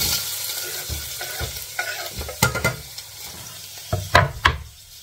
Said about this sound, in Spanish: Y enseguida le añado la cebolla